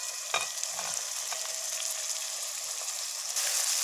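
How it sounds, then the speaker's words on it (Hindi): Instant noodles fry in a pan with tomato, green chilli and cabbage while being stirred, giving an even, close sizzle with a few brief utensil clicks near the start. "अच्छी तरह हम इसको मिक्स कर लेंगे।"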